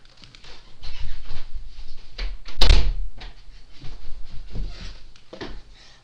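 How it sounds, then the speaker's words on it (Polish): A door is shut indoors with a single sharp, close thud. Softer shuffling and handling noises come before and after it. "Tylko zamknę drzwi"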